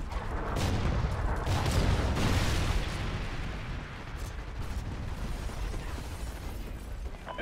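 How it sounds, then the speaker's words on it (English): Trinity rocket strikes in the Call of Duty Ghosts video game make a loud, rumbling barrage of explosions and blasts that peaks early and then settles into a sustained roar. "Friendly Trinity rocket inbound."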